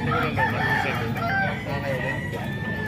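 Gamecock roosters crow at a fighting-rooster farm, with several calls overlapping in a loud, busy stretch of clucking fowl and other birds close by.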